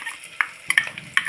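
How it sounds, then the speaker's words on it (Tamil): Ground henna paste is sautéed in a pan, giving a quick spatula scrape and clatter of a few strokes over a soft, close sizzle. "இப்போ நம்ம வந்து அரைச்சி வச்ச மருதாணியை போட்டு நல்லா வதக்கிக்கலாம்."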